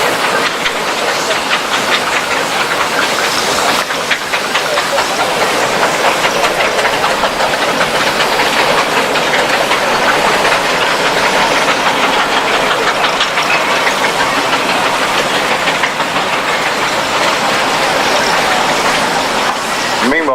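Steam and diesel engines run together in a show arena at the Great Dorset Steam Fair 2018, giving a loud, unbroken wash of hissing steam and churning mechanical rumble that holds steady throughout.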